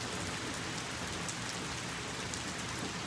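Steady rain falls on a rainy day, an even, dense hiss of drops that holds at a moderate level throughout, with no voices.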